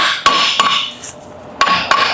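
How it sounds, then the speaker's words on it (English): A hammer striking the steel spindle of a 2014–2019 Toyota Corolla during CV axle replacement: four sharp metallic blows in two pairs, close and loud, with a ringing tail. "Lift up the spindle. You can hammer it here."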